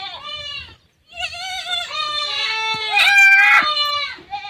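Goats on a goat farm bleat loudly and almost continuously, overlapping wavering cries close by, with one brief gap near the start.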